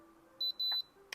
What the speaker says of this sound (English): Stop, wait for the beep sound and then remove it